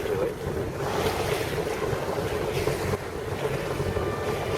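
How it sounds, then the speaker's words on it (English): A motorboat powers almost straight into the wind in open sea between Carmen, Cebu and Samar Island, with steady engine drone, waves washing past the hull and heavy wind buffeting the microphone throughout. "we're sailing almost straight into it, or I should say powering almost straight into it"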